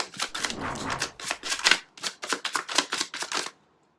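Tarot cards being shuffled by hand, a series of quick riffling bursts in a rhythmic run, close and crisp, stopping abruptly into silence.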